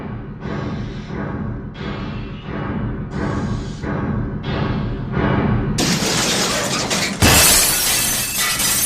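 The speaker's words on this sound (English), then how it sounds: "A shower of broken glass rained down on his roof." Glass shatters loudly, a sudden bright crash near the end following a stretch of rhythmic, repeated rumbling bursts.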